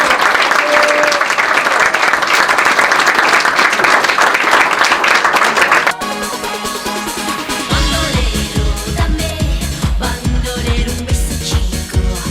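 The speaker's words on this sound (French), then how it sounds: "je vous invite, vous, à les porter de vos applaudissements" Audience applause fills a Kiwanis club ceremony in Malmedy during a presidential collar exchange, a dense, loud, steady clapping for about six seconds before music takes over.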